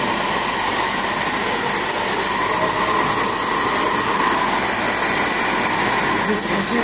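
A flame treatment machine for pre-printing on containers runs with a steady, loud, broadband roar and hiss that stays constant throughout, with no breaks in the noise.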